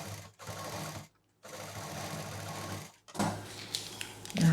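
A sewing machine stitches a 9 inch zip onto a colourful party purse, running in steady whirring bursts with two short pauses and a brief stop near the end, close and alone without talk.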